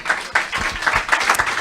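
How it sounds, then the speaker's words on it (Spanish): Church congregation clapping at a Spanish-language worship service, a moderate burst of irregular applause lasting a moment, fairly close, with no talk over it. "¿Cuántos pueden dar un aplauso al Señor?"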